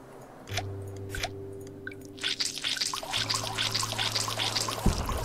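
Water is poured while making water in the survival game Dead in Bermuda: a few scattered drips over a low hum, then a steady pouring trickle fills the second half, with no talk.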